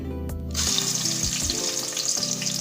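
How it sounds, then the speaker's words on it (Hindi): Chopped onions dropped into hot mustard oil set a sudden loud sizzle hissing after a quiet start, with a few spoon scrapes under the steady frying, close and without speech. "सबसे पहले हम प्याज डालेंगे"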